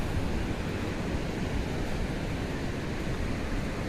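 Steady, dense wash of surf breaking at a beach, a continuous roar with no distinct individual wave crashes and no voices.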